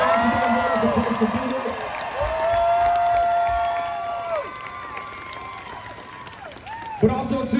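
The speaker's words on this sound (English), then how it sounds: "A round of applause, if you would," A crowd at a live rock show in a St. Petersburg, Florida record store claps and cheers, with shouts and whoops rising and falling over a lively, fairly loud clamor.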